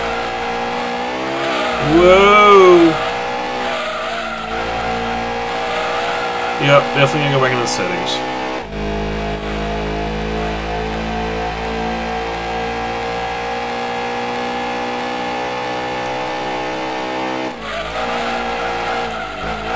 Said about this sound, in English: But the engine on this thing just sounds dirty.